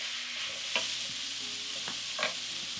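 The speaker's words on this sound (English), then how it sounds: "Give this a stir using this spoon." A spoon stirs ginger and garlic in a pan for beef stew, with a few distinct scraping strokes over a steady, close frying sizzle that fills the whole clip.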